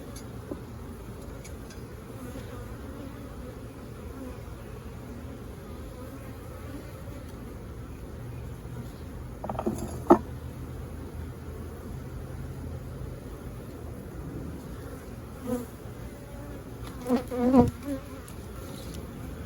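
Honeybees buzz steadily around an open hive during an inspection, a soft continuous drone close by, with occasional frame knocks and handling clicks standing out against it.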